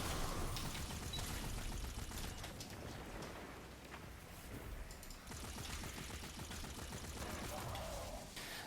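Rapid automatic gunfire from the Centrifuse weapon in the video game Destiny 2, a dense continuous rattle of shots that runs almost without a break, with brief dips, fairly loud against game ambience.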